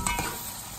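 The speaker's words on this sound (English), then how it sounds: "So right now, I'm just frying it" Food fries in a pan over medium-low heat, giving a brief, faint sizzle with a couple of soft stirring scrapes near the start.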